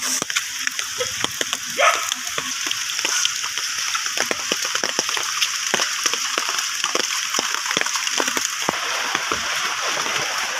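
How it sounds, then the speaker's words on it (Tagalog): Heavy rain pours steadily with a dense hiss and scattered patter of drops, continuous and close throughout. "Pero yung ulan, malakas yung ulan."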